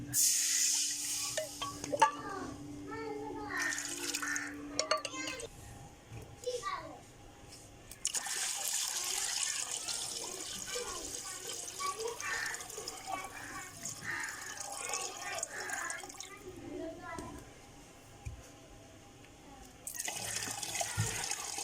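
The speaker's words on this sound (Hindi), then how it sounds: "इसमें अब 4 किलो जो है ना वो पानी डालेंगे" Four kilos of water pour steadily into a pot for semolina halwa, a soft splashing rush with short breaks, while a person speaks quietly nearby.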